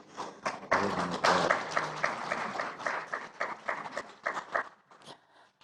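Audience applause at a public development review meeting, a dense burst of many clapping hands swelling quickly, then thinning into scattered claps and fading out over several seconds.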